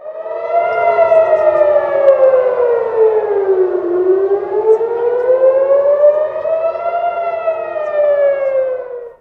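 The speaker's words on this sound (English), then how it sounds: "Sirens screamed as every phone in Israel sounded the Category 1 alarm for a missile attack." A civil defense air raid siren warns of a ballistic missile attack in Israel, a loud wailing tone that rises and falls in slow sweeps, sounding alone and close.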